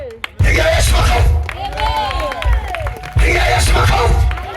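A crowd at an outdoor gospel crusade claps, cheers and whoops in loud bursts, with a shouting voice rising over the noise in the middle before the cheering swells again.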